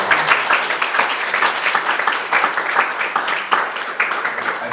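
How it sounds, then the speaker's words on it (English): An audience at a policy roundtable applauds the panel, a room full of people clapping loudly with slight uneven surges, continuous across the whole span, with no talking. "can we have a round of applause please for our panel?"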